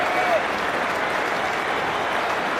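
A cricket crowd at Lord's during an England vs Australia Ashes Test claps in steady, dense applause that fills the whole moment at an even level.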